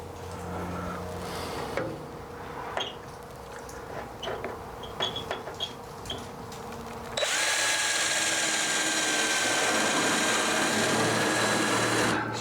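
Power drill boring cleco holes, short bursts of whirring with pauses and light tapping, then a long sustained high-pitched drilling run, close and loud.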